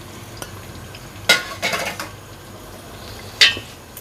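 Garlic, ginger and onion frying in ghee in a pan, a low background sizzle broken by a few sharp scrapes and knocks of a utensil against the pan, close by and with no voices.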